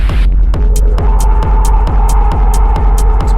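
A techno track thumps along with a steady deep kick. A rising atmospheric sweep swells in over it, carrying a sustained droning pad and crisp hi-hat ticks on the offbeats. The mix is loud and continuous.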